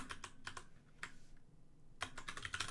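Quiet clicking of a computer keyboard as code is typed for a Flutter app, bursts of quick keystrokes separated by a short pause, close by with no speech.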